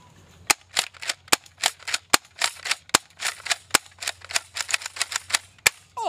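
A toy shotgun fires in rapid succession, sharp cap-gun cracks mixed with lighter mechanical clacks of shells being ejected, loud and close in an irregular burst over about six seconds.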